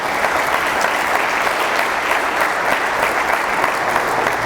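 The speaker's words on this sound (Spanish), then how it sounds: "Dale un aplauso al Señor." A church congregation gives a loud, sustained round of applause during a Sunday sermon, dense clapping from many hands holding steady throughout with no voices over it.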